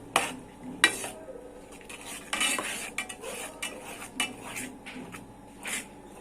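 Onion and ginger-garlic paste stirred in hot oil in a pan for Punjabi chicken gravy, with a spoon clinking and scraping against the metal pot in irregular bursts over a faint sizzle.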